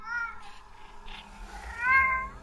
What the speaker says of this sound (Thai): แมวข้างบ้านร้องออกมา